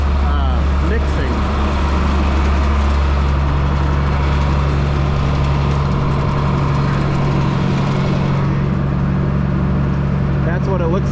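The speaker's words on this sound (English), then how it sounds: "I flipped on the PTO for this tractor here, so now the feed is actually mixing." Farm tractor idling steadily with its PTO engaged, driving a feed mixer for dairy cows; a loud, continuous low engine drone holds throughout with faint clanks and machinery noise on top.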